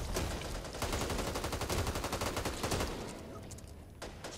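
Rapid bursts of automatic gunfire from the zombie shooter game Back 4 Blood, a dense rattling fusillade that is loud and continuous for about three seconds before thinning out.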